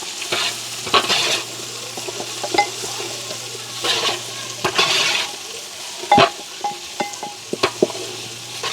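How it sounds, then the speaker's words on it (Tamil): Onions sauté in hot oil with a low sizzle under loud, irregular scraping and clinking as a spoon turns them in the pan. "வெங்காயத்தை இப்படியே நல்ல வடிவாக நாங்கள் பிரட்டி விடுவோம்."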